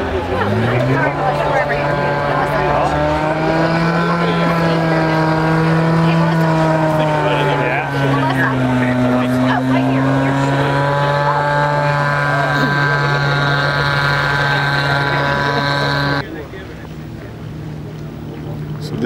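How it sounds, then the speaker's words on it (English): Seaplanes taking off and landing at the Oshkosh seaplane base in the morning: a loud, steady, droning propeller engine whose pitch rises and falls slightly, then cuts off abruptly near the end. "So this is the morning at the Seaplane base. Just watching some of them take off and land."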